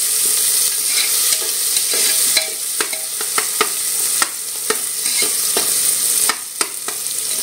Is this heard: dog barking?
no